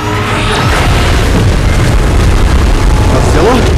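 A massive beam blast explosion in the PUBG Mobile Titans Strike game mode, a loud sustained roaring boom filling the whole moment with rumbling low end and high whooshing streaks.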